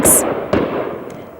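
A firework goes off: a sharp, bright crackle at the start, then a dull thump, with a rumbling tail fading away.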